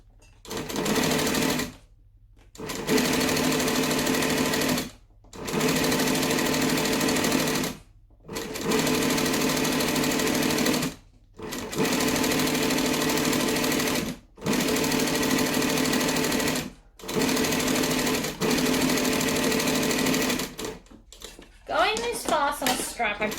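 A cylinder arm sewing machine stitches a Linette business bag by Swoon, running in seven fast buzzing bursts of a few seconds each, split by short silent pauses, with fabric rustling and handling at the end.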